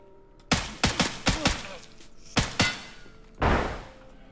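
Gunfire in the video game Escape From Tarkov: about seven sharp, loud close-range shots in quick pairs and clusters, followed by a slightly longer, rougher blast near the end, with quiet gaps between.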